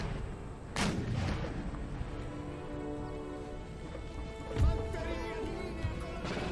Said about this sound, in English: I've got a volley off into my grenadiers.